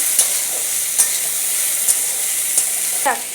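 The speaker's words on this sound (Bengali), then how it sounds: "এবার আমি একটু নাড়াচাড়া করবো, ভালো করে নাড়াচাড়া করে দিতে হবে।" A spoon stirs curry with turmeric and salt in a frying pan, likely for kochur lati chorchori, with a soft sizzle under regular scraping strokes about once a second.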